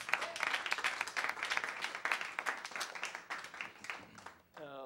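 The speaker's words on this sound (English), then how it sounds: "So please, a big round of applause." A concert audience at Berklee College of Music breaks into lively applause, thick overlapping claps and some cheering that swell and dip before a brief tonal sound cuts in at the end.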